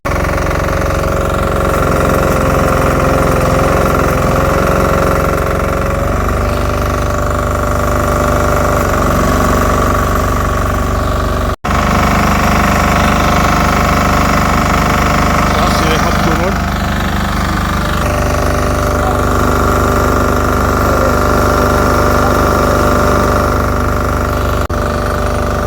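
Micro banger racing cars at Lochgelly Raceway in Fife, Scotland, with engines running in a steady loud drone, pitch shifting as they rev, and one sharp knock midway.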